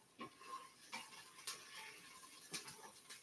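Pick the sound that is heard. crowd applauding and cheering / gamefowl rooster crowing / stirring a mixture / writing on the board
stirring a mixture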